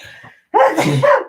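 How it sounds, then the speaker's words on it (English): A single loud sneeze right up close, preceded by a faint breathy intake. "I'm going to sneeze."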